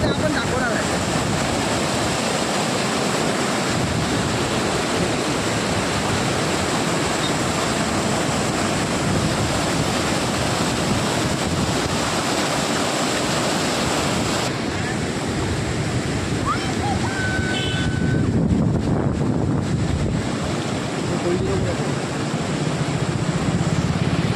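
A river in heavy flood after torrential rain in Melghat, a steady loud roar of rushing water with wind buffeting the microphone, continuous for the whole stretch with no break.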